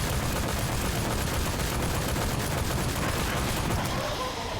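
Heavy, sustained gunfire from the Sker Ritual zombie game rattles on for the whole stretch, dense and loud with rapid overlapping shots and no pauses.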